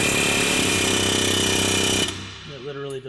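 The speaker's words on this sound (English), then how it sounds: "I've air hammered the chisel bit in here to try and spread it" An air hammer drives a chisel bit into a car part, a loud rapid continuous rattling hammering for about two seconds, then stopping abruptly, followed by a brief voice.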